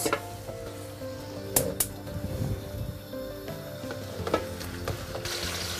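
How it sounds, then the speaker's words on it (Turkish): Turkey sizzles and crackles quietly in a hot pot of butter, with a few sharp metallic clinks of utensils against the pan. "Hindimizi kızartmak üzere tenceremizi alıyoruz"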